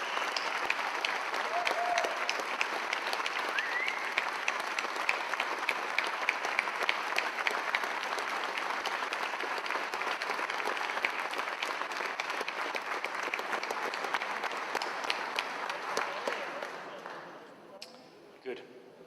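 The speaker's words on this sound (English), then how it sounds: "I give them a huge round of applause" Audience at the Silverrudder 2017 sailing race opening ceremony giving a long, sustained round of applause, a dense, even wash of clapping at moderate distance that fades out near the end.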